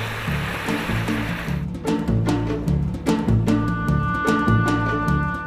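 A huge river pours into the sea in Gilan, northern Iran, a broad rushing wash of water heard up close, partly overlaid by rhythmic music with steady beats.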